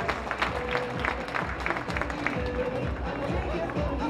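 Outdoor crowd at a horse breeding show clapping, a scattered patter of applause mixed with general crowd murmur and some voices, moderately distant and steady.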